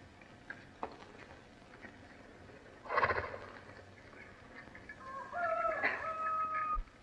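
A horse whinnies twice, first a short call and then a longer, wavering neigh, at moderate distance with no one talking.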